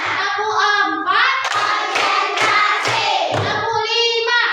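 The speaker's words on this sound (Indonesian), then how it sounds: "Tepuk empat." Schoolchildren clap together in a counting clap game, several distinct claps punctuating their chanted voices, loud and close in a classroom.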